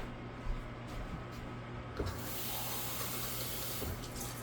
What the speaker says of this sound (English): Okay, and I'm going to get some more water.